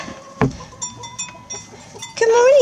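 Goats in a dark barn at morning feeding time, with scattered soft clanks and rustles, then one clear rising bleat close by at the end.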